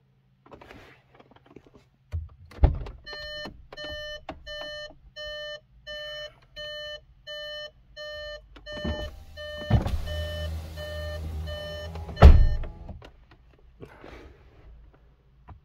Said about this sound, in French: on a entendu les étriers, le piston s'enclencher